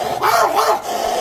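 A man imitates a dog with his voice, giving two or three deep, gruff barks in quick succession, loud and close, with no other talk.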